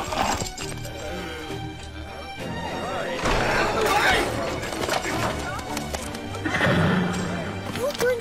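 A horse whinnies loudly inside a tavern amid hooves clattering and a crash of breaking objects, with voices shouting over the commotion in an animated scene.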